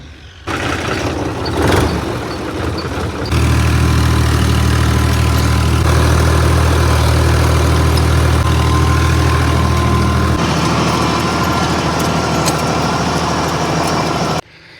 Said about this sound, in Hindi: सबसे पहले वो चलाना है, फिर बीज और खाद डालना है, फिर रोटर चलाना है।